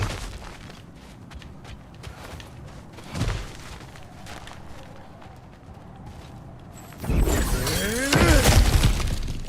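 Kratos smashing through breakable objects in God of War Ragnarok, a sharp crunching impact early on, then a loud burst of splintering, shattering debris later, with scattered clattering and quieter ambience between.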